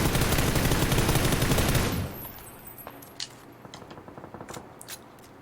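Rapid automatic gunfire from a PUBG game weapon during recoil practice, a dense sustained burst for about two seconds that cuts off abruptly, followed by scattered faint clicks and small impacts.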